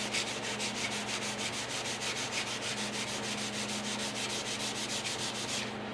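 Pad rubbed back and forth over an oxidised cast-iron Stanley No 4-1/2 jumbo smoothing plane, a steady close scrubbing rasp in even regular strokes, with no voice.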